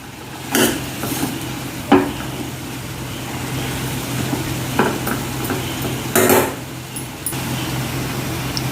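Garam masala being stirred into a chickpea and yam curry: a spoon scrapes and clinks against the pot in a few distinct strokes over a low steady background hum, with no talking.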